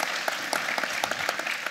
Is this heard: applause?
yes